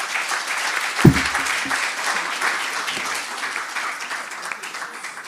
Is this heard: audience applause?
yes